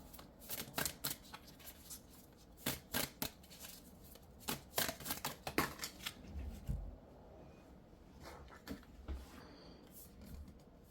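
Tarot cards being shuffled in quick riffling bursts, crisp and close, with pauses between rounds and some soft handling noise.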